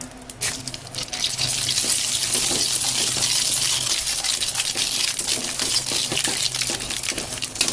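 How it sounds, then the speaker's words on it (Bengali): Mustard seeds in hot oil in a wok, a loud bright crackling sizzle that rises after the first second and stays dense, with scattered sharp pops. "কড়াইতে একটু তেল দিলাম, ফোড়ন দেবো সরিষা"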